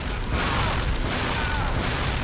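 Video game explosion in Cold Fear, involving C4 charges: a dense, continuous roaring rumble that stays loud throughout, with no distinct breaks.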